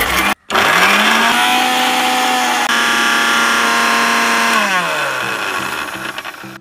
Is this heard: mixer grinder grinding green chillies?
yes